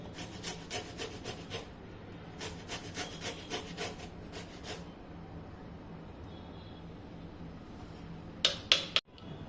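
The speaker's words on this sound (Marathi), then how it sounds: "10 मिनिटानंतर मग लगेच असा दुधी ना किसून घ्यायचा याच्यामध्ये" A bottle gourd (dudhi) rubs against a grater in quick rhythmic strokes, fading into a quiet pause before a few clinking kitchen knocks at the end.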